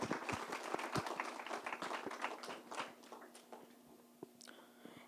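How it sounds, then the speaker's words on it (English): Faint, thin applause for a woman who has just read out her handwritten letter, scattered claps from a small audience with a steady low hum underneath, trailing off toward the end. "Please give a round of applause for Ms."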